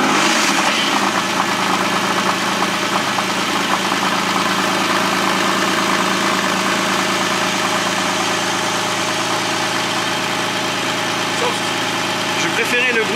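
A Porsche engine starts and settles into a loud, steady idle with a rough mechanical rumble running throughout, heard up close.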